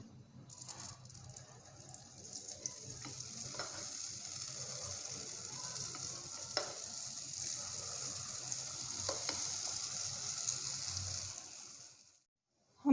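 Dahi bara batter frying in hot oil over a medium flame: a steady, dense sizzle with crackling that runs continuously before cutting off abruptly near the end, with no talking.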